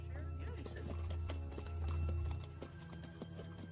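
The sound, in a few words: horses approaching with hooves clip-clopping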